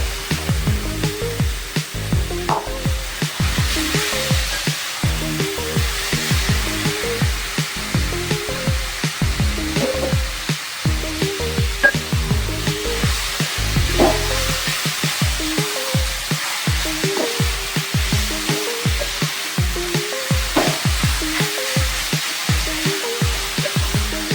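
Chicken sautéing in a pan in a Kerala home kitchen gives a steady, dense sizzle with a rhythmic pulsing texture that runs continuously and fairly loud, with no talking.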